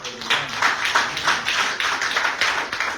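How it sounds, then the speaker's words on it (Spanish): A church congregation claps for the Lord during a Spanish-language sermon, a dense, steady patter of many hands lasting throughout, with some voices mixed in. "Denle un fuerte aplauso al Señor."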